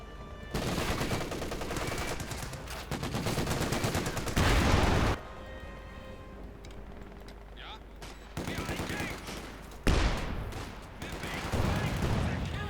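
Bursts of MG34 machine-gun fire from the Company of Heroes 2 battlefield rattle amid other gunfire and explosions, in repeated loud volleys with brief pauses between them.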